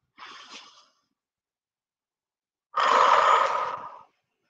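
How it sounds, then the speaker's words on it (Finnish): Slow breathing during a mindfulness exercise: a short soft inhale, a pause, then a long, steady, airy exhale blown out close to the microphone that fades gradually. "Ja sitten pitkä hyvä puhallus."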